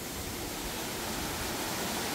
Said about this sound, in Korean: 여기 이제 계곡물이 폭포로 내려가는 거예요